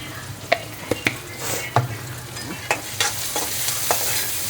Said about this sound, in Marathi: हळद पण सोबतच टाकून देते, म्हणजे कांदा टमाटर लवकर शिजून जातील